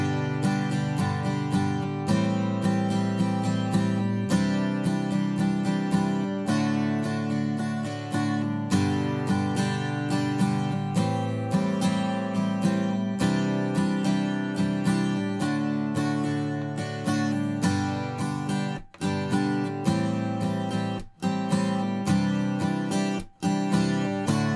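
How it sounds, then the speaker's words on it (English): Strummed guitar playing the same chord progression in three rhythm variations one after another, steady and close, with a few short breaks between sections. "let me play all three of those rhythms one after the other for you"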